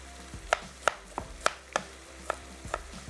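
A knife chops an onion into small pieces on a cutting board, about eight crisp, evenly spaced knocks, close and clear over a quiet kitchen background.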